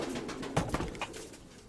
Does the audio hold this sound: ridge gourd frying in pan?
no